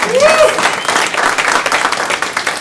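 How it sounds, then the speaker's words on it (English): Comedy club audience applauding at a stand-up show, dense steady clapping with a few whoops rising over it, loud and continuous throughout. "give them a round of applause"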